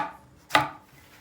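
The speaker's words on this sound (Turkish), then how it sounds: "Önce işe patlıcanları doğrayarak başlıyoruz." A single knife chop through eggplant on a cutting board, one sharp crisp thud standing alone in a quiet kitchen.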